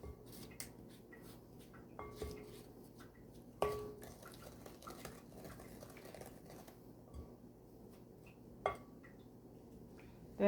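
Chocolate chip cookie batter is mixed by hand in a bowl, with faint soft squishing and scattered light clinks of a utensil against the bowl in a quiet kitchen.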